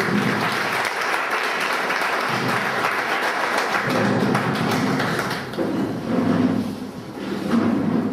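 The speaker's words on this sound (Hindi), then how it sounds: "मैं सभी से निवेदन करता हूँ कि जोरदार तालियों से उनका स्वागत करें।" An audience at a lecture held at the Institute of Chartered Accountants of India breaks into loud, sustained applause to welcome Rajiv Dixit, a dense roar of clapping that dips briefly near the end, with faint voices underneath.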